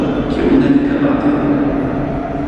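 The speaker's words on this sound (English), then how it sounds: "Uwaga pociąg, kierunek Karpaty." Warsaw Metro subway train pulling into a station, a loud continuous rumble and hum with rail noise that stays steady throughout, close by on the platform.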